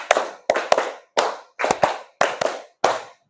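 A group claps a counted five-clap pattern twice in a training classroom, seven or eight crisp, close claps in uneven clusters separated by brief silences, no voices.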